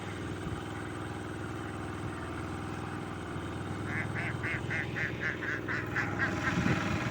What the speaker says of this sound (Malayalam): താറാവും പോകുന്നു